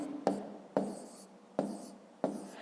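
Pen strokes on paper during a fifth-grade maths lesson, a hand writing out numbers: four short scratchy bursts, each with a sharp onset that tapers off, close and fairly quiet with no talk.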